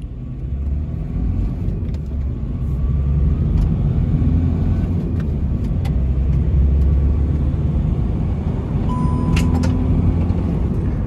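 A 2022 Hyundai Venue SX car pulling hard at full throttle in second gear, a steady loud engine drone and road rumble that holds without a break and with no talk.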